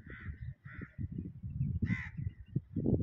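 Crows caw in a park, several harsh calls in short bursts standing out near and clear over a steady murmur of people talking nearby.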